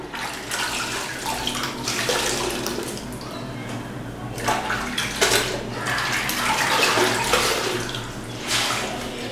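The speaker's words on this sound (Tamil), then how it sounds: "சோப்பு நுரை வர்ற வரைக்குமே நீங்கள் தண்ணியில் ஃப்ரெஷ் வாட்டர் எடுத்து எடுத்து அலசுங்க" Cloth diapers are rinsed in fresh water with repeated bursts of splashing and sloshing, like water being scooped and poured, over a steady running-water background.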